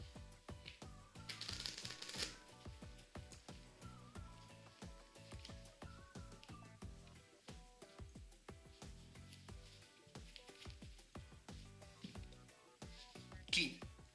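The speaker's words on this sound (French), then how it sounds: "nous allons mélanger les cartes face en bas et les cartes face en l'air" Playing cards are shuffled face down and face up in a quiet room, giving soft repeated riffles and light flicks with a few clicks and a brief sharper snap near the end.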